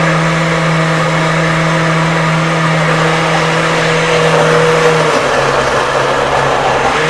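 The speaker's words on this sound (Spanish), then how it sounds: "Licuamos la auyama con la leche y el azúcar, eh, los huevos, azúcar y la auyama muy bien." A blender runs steadily, blending pumpkin with milk, sugar and eggs for a pumpkin cake, a loud continuous motor whir with a slight pitch shift near the end.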